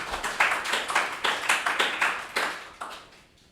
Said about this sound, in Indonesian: Kita beri tepuk tangan ya.